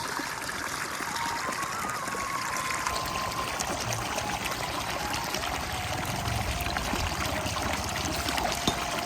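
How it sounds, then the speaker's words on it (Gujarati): Water runs steadily along an irrigation channel in a farm field, a continuous close rushing trickle with no break. "જો ને પાણી જાય ને"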